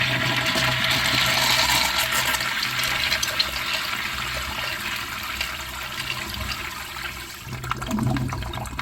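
A 3rd gen Eljer Bedford toilet flushes with a loud rushing of water, then slowly drains and gurgles, the roar easing into a softer steady wash, close up.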